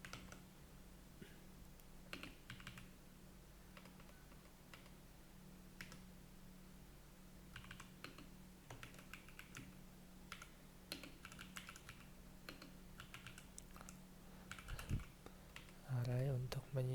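A computer keyboard is typed on at a steady irregular pace throughout, soft close clicks and taps over a constant low hum, with brief talk at the end.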